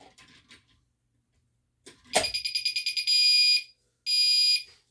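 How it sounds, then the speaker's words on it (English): A fire alarm on a home alarm board sounds after its pull station is pulled: a click and clunk, then a rapid pulsing electronic buzz, a long steady tone, a pause, and another steady tone, loud and close. "So let's go ahead and pull the fire alarm again."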